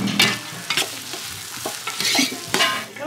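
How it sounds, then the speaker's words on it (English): Chicken fries and sizzles in hot oil in Senegal, with a steady crackle broken by the scrape and clatter of stirring close by. "she's frying the chicken"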